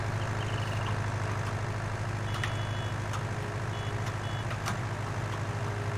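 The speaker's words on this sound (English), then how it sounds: "were you beeping your horn?" A truck in the video game Farm Simulator sounds a series of thin, evenly spaced beeps over a steady engine drone, with no talking.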